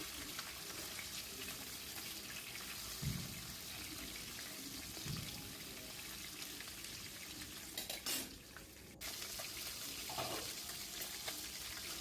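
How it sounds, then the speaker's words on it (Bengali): Tengra fish frying in mustard oil over a low gas flame: a steady, fairly quiet hissing sizzle runs throughout, with a few soft clinks and a brief scrape near the end. "খুব সাবধানে মাছ ভাজতে হবে গ্যাসের ফ্লেম কমিয়ে।"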